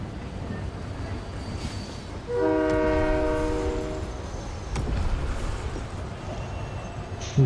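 A train horn sounds in the video game Fortnite, a steady multi-tone blast of about two seconds rising over a constant background rumble, followed by fainter rolling noise as the train approaches.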